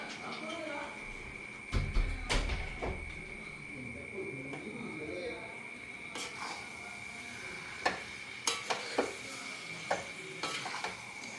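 A spoon stirs vaduka puliyan lime pickle in oil in a pan. Scraping strokes come in bursts over a faint sizzle, a dove coos in the background and a voice is heard at times.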